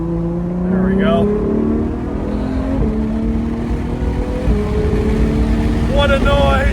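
A 940 WHP McLaren 765LT engine revving nearby, rising and falling throttle sweeps over a deep continuous rumble, with people talking faintly beneath.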